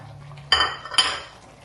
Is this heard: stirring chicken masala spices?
yes